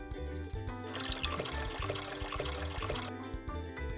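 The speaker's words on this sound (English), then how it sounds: "Pour in some milk." Milk pours into a toy mixing bowl in a Minnie Mouse play kitchen as a continuous trickling, splashing liquid sound lasting a few seconds, layered over light background music.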